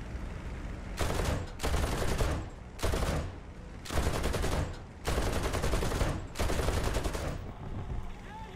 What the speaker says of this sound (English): I tried a few long range machine gun shots just to scare the enemy into maneuvering